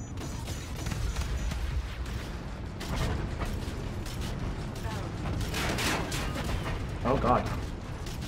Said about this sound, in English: Oh, I can switch the cannons.